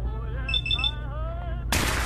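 A single sharp gunshot in Fallout 4 cracks out near the end, loud and broadband, following game tones and a speaking voice.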